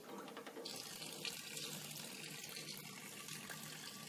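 Steady rush of tap water pouring over a glass bottle in a Kinkajou bottle cutter, the stream angled onto the glass; continuous, close and fairly loud, with no talking.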